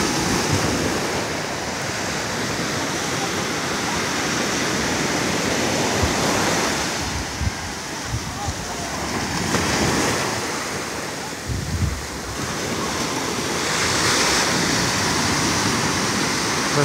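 Steady roar of Atlantic Ocean surf washing onto Varadero beach in Cuba, with waves swelling and breaking every few seconds and some wind noise over the microphone.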